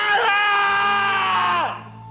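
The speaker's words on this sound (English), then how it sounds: "The primal scream of pain and rejection by a lover, arguably a mother substitute, is expressed by Marlon Brando in A Streetcar Named Desire" Marlon Brando's anguished primal scream from A Streetcar Named Desire, one long, loud, strained male yell held for well over a second before breaking off and dropping away.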